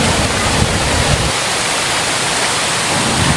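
The Duwili waterfall at Neluwa in Sri Lanka cascades downward, making a loud, continuous broadband roar of falling water with no other sounds.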